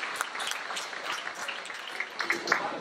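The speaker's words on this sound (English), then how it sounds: "We give a round of applause to all the parents in this room." An audience in a room at a community show applauds the parents, with scattered, fairly soft clapping that stays steady throughout.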